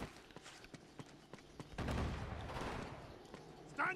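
Gunfire rattles in the video game Uncharted: Among Thieves, quiet and distant sounding, with sharp cracks scattered irregularly and then a denser burst of fire.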